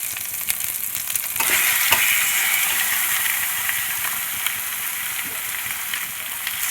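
Washed chicken pieces hit a hot pan of spices and sizzle loudly, a steady bright frying hiss swelling as they go in, with a few scraping stirs and no talking.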